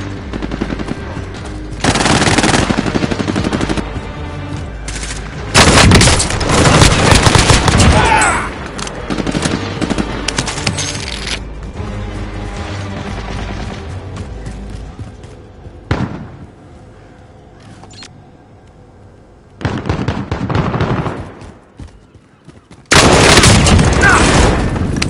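Loud machine gun fire in repeated long bursts, separated by quieter gaps, with heavy booms mixed in during an assault on an aid station.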